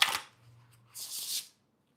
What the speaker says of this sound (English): We're going to give it a shuffle.